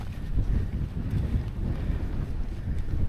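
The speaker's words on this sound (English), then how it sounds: "And it's got windy again." Gusty wind on an exposed mountainside in the Langdale Valley buffets the microphone in a continuous low, rumbling roar that swells and eases throughout.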